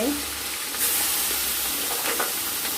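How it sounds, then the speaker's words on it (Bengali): Roe-filled bata fish frying in hot oil, giving a steady, dense sizzle and hiss close up, with occasional brief crackles and pops. "এবার আমরা মাছগুলা ভেজে নেব"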